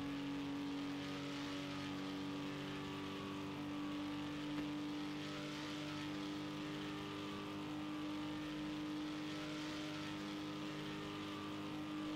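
Racing car engines in Project CARS 2 at the Daytona 24 hours drone continuously at a faint, distant level, a steady layered hum of motors with no speech over it.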